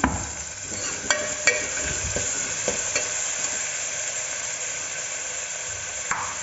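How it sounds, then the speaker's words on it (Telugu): Onions and tomato frying in a pan for a mixed vegetable curry, a steady close sizzle with occasional sharp clicks and stirring scrapes throughout, no talking. "కొంచెం కొంచెం ఆనియన్స్ కొద్దిగా ఫ్రై అయ్యాయి ఇప్పుడు మనం అందులోకి టమాటా వేసుకుందాం"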